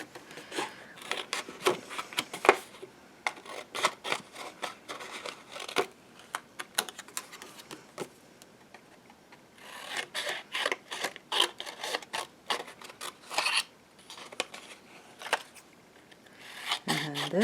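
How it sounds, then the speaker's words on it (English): Scissors snip by hand through paper for handmade holiday thank-you notes, in quick bursts of crisp cuts and light paper rustles, with a quiet pause in the middle. "I'm going to take out my scissors, and I'm simply just going to cut them."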